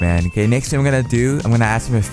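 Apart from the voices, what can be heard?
None of the usual background noises is heard.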